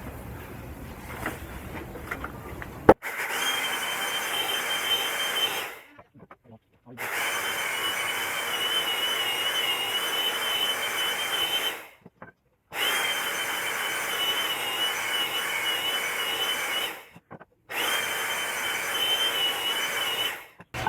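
Wooden parts from old window frames, being made into a desk, are sanded in long continuous bursts of harsh abrasive rubbing, close and loud, with short pauses between passes after a brief quieter stretch with faint talk.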